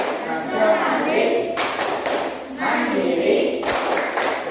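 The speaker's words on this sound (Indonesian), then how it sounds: "Kita akan melakukan tepuk PPK dan salam PPK." A school class does a rhythmic clapping chant, with children's voices chanting together and a few sharp, loud group claps standing out at irregular moments.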